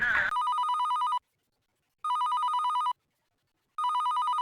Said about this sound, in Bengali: ভাই, আমার একটা ফোন আইছে, আমার যাইতে হইব